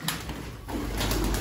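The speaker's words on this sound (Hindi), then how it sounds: "ये गोल्लू के काम है जिसने आते और आते इन कबूतरों का बाहर निकाल दिया और ये दाना खाने के लिए यहाँ पे आ गए" Pigeons coo softly nearby in low, throaty bursts over a busy background hum, with no talking.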